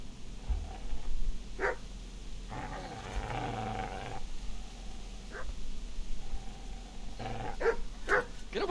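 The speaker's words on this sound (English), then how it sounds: "Oh, no, just a dog." A dog in the medieval Bohemian game Kingdom Come: Deliverance barks and growls in several separate bursts, moderately close, with short gaps of quiet ambience between them and no talking.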